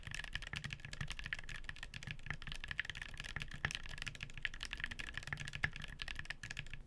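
Typing on a keyboard fitted with Gateron Hall Effect switches makes a continuous, fast clatter of light keystrokes, soft and close, with no voices over it.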